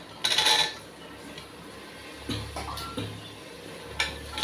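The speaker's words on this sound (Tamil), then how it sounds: "இந்த பயரை சேர்த்துருவோம்." Butter beans tipped into oil-separated masala in a cooking pot for butter bean biryani, giving a brief soft clatter and scrape, followed by quieter stirring and knocks against the pot.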